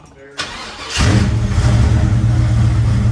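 A 1977 Chevy C10 pickup cranks over and fires, its engine catching after a short starter whir and then revving and settling into a loud, steady rumble close by, with speech heard briefly over it.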